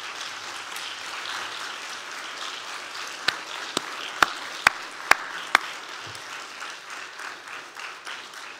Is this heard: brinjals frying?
no